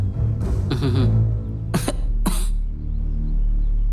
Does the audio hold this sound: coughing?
yes